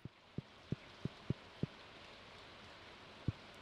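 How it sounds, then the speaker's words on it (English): Rain in the farming video game Stardew Valley: a faint, steady patter with a series of soft, evenly spaced low thumps of drops. "Oh, it's raining."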